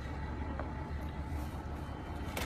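A minibus engine idles during a transport carriers' strike in Boryspil, a steady low rumble running unbroken and fairly loud through the whole stretch.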